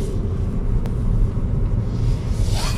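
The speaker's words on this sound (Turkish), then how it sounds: "Araba geçti." A car passes on a roadside during a traffic police stop in Kashkadarya, Uzbekistan, heard as a steady loud low rumble that swells and fades over a few seconds, with no talk over it.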